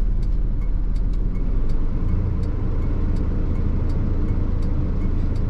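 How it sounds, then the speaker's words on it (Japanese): Steady road traffic drones continuously as cars pass a waste-hauling truck on a road in the evening, a low rumbling wash of engines and tyres with no voices. "まあよう来るね車が。"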